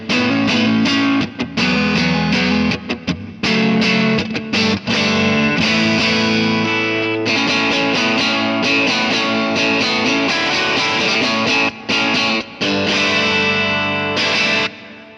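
Distorted electric guitar through a free Kemper amp profile, loud and close, with chords and riffs played continuously in a gritty, saturated tone with slight modulation, with no talking over it.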